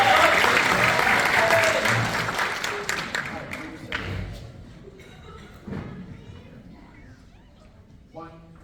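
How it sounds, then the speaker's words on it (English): Audience applause at a high school band spring concert, dense and loud at first, then thinning into scattered claps and fading over several seconds with a few thumps. "Another round of applause from this."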